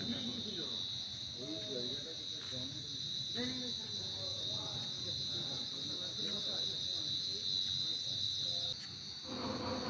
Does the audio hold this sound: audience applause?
no